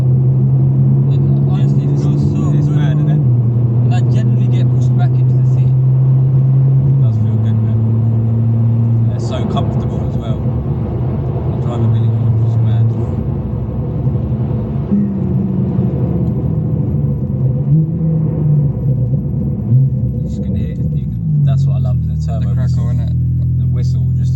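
A Porsche 992 Turbo S Convertible with an upgraded exhaust and air filters fitted straight onto its turbos pulls hard from about 60 mph, with a deep engine drone rising through the gears inside the cabin while people talk throughout.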